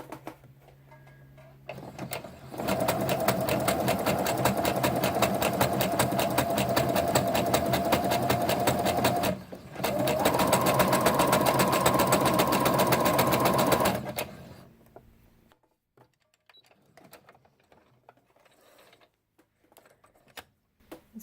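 A sewing machine runs a zigzag stitch along a fraying cosplay fabric edge, giving a loud, rapid mechanical whir in two long bursts with a short pause between them, then it stops and near-silence follows.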